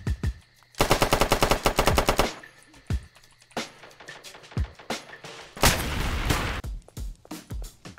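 Bursts of rapid automatic gunfire in a Roblox game, with sharp single shots and thuds between the volleys; loud and close.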